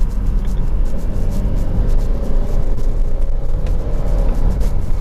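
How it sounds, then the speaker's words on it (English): A 2017 Subaru Forester XT Touring accelerates in a steady, loud interior drone of engine and road noise, with only a thin, faint whistle that could be the turbo spooling. "you can hear that turbo whistle really nicely while it's spooling up"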